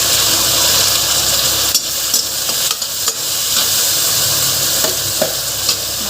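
Spinach and lentil dal with garlic sizzles steadily in a pan, a continuous loud frying hiss broken by a few stirring scrapes and knocks, heard close with no talking.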